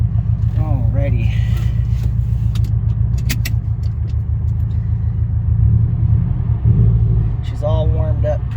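A warmed-up 2017 Subaru STI with fresh fuel lines and small bolt-ons idles steadily, its low engine rumble close and constant throughout, with a voice talking over it.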